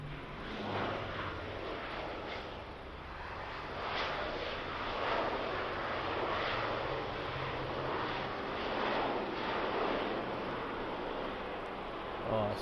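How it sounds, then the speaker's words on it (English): A cargo aircraft touching down at Birmingham Airport, heard as a loud, steady broadband engine roar that holds without a break for the full twelve seconds and swells slightly in places. "Nice early touchdown."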